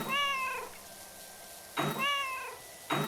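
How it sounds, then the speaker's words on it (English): A cat meows twice in clear, fairly close calls, with a quiet pause between them and a third starting at the end; the calls come over background from a Powerwash Simulator 2 gaming session. "Stop meowing."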